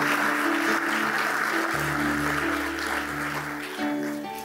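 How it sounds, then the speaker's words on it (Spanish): Congregation applauds during a Spanish-language church service, a steady wash of clapping heard under sustained organ-like tones and music, moderately loud and continuous. "Denle un aplauso al Señor."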